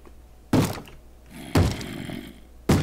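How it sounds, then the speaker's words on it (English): Three heavy thuds on a wooden door from a Minecraft chicken banging against it in the video game, spaced about a second apart and loud against a quiet background. "We have a chicken banging on our door?"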